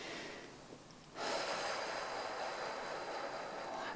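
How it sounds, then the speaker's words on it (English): A deep breath drawn in sharply through the nose, a sudden loud close inhale that swells and holds as a steady airy rush, with no talking. "So I want you to take a nice deep breath in."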